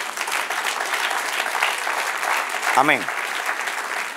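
Steady applause from a church congregation fills the room after a pastor's Old Testament class lecture, with one voice briefly speaking over the clapping near the end.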